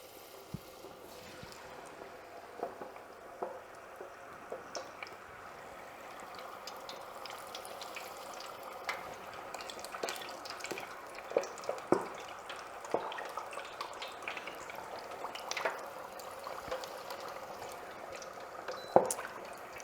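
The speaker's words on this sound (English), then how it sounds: "we're going to just lay a few of these at a time carefully into the oil" Beer-battered shrimp seasoned with Old Bay fry in hot oil with a faint, continuous crackle, scattered small pops and sizzles growing slightly busier over about twenty seconds.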